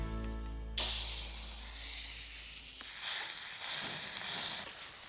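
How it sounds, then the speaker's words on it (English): Ground bison meat sears in a generous pour of oil on a hot plancha, making a steady, close sizzling hiss that swells louder partway through, with no voices. "we're gonna brown our meat on the plancha"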